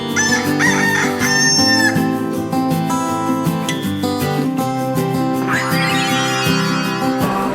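Rooster crowing among chickens at a farm stay, loud and close, with clucking and other farmyard calls running continuously underneath.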